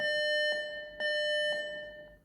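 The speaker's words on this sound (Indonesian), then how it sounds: "Jadi nanti nggak ada suara azan. Suaranya bip." A TV prayer time clock sounds its electronic beep alert instead of the call to prayer: a steady bright tone broken into three even pulses about half a second apart, clear and close with no talk.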